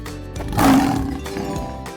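A single lion roar swells up loud for about half a second, then fades out over steady background music.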